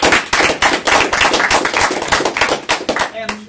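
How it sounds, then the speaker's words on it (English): Loud, dense applause from a debate audience, a steady wash of many hands clapping that thins out near the end. "Let's give both teams a round of applause."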